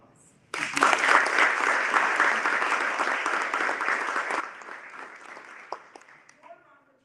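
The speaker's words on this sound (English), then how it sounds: "And that deserves a round of applause." An audience at a mayoral candidates forum breaks into a round of applause that starts abruptly, holds for several seconds, then thins out into scattered claps before dying away.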